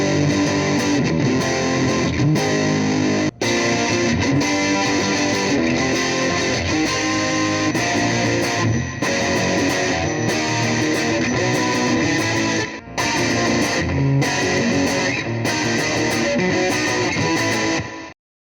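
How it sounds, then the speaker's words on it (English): Heavily distorted electric guitar played continuously, dense and loud with sustained saturated tone and only brief gaps. "With enough distortion, all guitars will sound the same."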